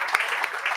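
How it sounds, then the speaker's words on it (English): Applause at a World Homeopathic Day gathering: a short burst of crowd clapping, fairly steady with a few sharper individual claps standing out. "I think it's a big applause for Tanmay, Dr. Tanmay."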